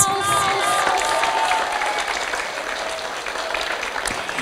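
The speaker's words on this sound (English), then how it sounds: "Please give him the big warm applause." Warm applause from an audience at an Asian American and Pacific Islander Heritage event, a steady dense clapping that holds for a few seconds and tapers slightly near the end.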